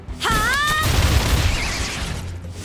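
Fireworks skill effect from the video game Reverse 1999: a rising whistle followed by a burst of booming, crackling pops, all under music and game effects.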